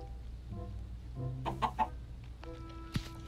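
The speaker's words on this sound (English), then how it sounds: "Hello and welcome to the world, Grass Chicken." Chickens in a Minecraft Skyblock world give a few short game-style clucks, close and fairly soft, with two bursts in the middle and a brief final call.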